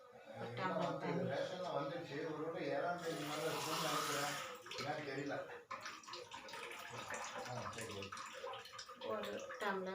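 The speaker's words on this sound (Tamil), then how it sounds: "கேபேஜ் தண்ணி ஊற்றிடலாம் கொஞ்சம்" Water pours steadily into cabbage in a pan for cooking, a splashing, running stream over a few seconds, with a brief louder gush, close by in a home kitchen.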